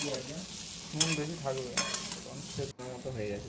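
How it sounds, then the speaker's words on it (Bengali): Potatoes fry in a pan with a steady sizzle, broken by several scraping stirs of a spatula; close and fairly loud. "খানিক্ষণ ধরে নাড়াচাড়ার পর দেখুন আলুটা প্রায় ভাজা হয়ে গেছে"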